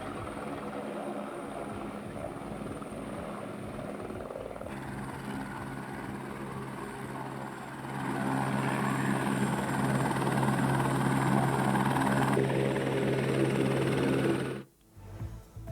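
A helicopter ferrying election polling teams in Uttarakhand, India drones steadily, growing louder partway through as it nears, then cutting off abruptly near the end.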